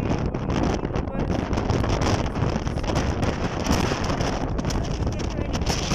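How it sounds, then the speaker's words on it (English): Strong wind on the Kailash Kora trek in Tibet buffeting the microphone with a constant loud roaring rush, steady throughout. "It's really windy."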